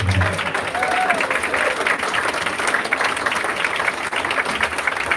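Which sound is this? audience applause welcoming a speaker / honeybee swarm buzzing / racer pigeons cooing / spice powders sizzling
audience applause welcoming a speaker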